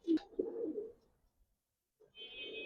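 Giribaz pigeons cooing close by, a soft throaty coo at the start, a brief quiet gap, then another low coo with a thin high tone above it.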